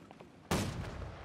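Cannon fire from ships in the Napoleonic naval game Holdfast: Nations At War, with a French warship's guns going off: one loud, close blast breaks a quiet lull and rolls on in a long rumbling tail.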